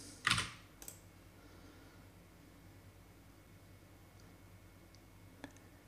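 A computer keyboard gets one sharp, close clack, then a couple of light key clicks while a password is typed. After that comes near silence with a faint hiss and one last tap.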